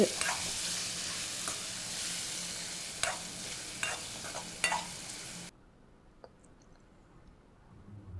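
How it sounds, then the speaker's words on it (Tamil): Tomato masala with chili powder sizzles in hot oil in a pan for a green turkey berry curry, with scraping stirs and clicks over a steady fry before the sound abruptly drops to near silence. "நல்லா வதக்கிக்குவோம் மிளகாத்தூளை போட்டு."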